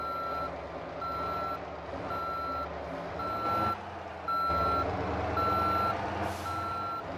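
Bus reversing while pulling in within the Motor Town driving game, a steady run of evenly spaced electronic beeps about once per second over a low engine drone.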